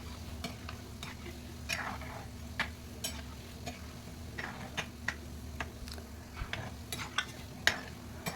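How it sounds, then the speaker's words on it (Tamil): Instant-packet gulab jamun frying in a pan of oil, stirred gently with a ladle: a soft continuous sizzle broken by frequent light ticks and scrapes of the ladle. "இது போட்ட உடனே கரண்டி வச்சு நல்லா லேசாக அந்த மாதிரி மிக்ஸ் பண்ணி விட்டுனே இருங்க."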